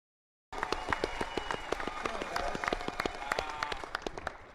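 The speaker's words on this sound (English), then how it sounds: "You're supposed to wave, not clap." An audience claps steadily at a curling club event, the rapid sharp claps starting after a brief silence and continuing loud and close throughout.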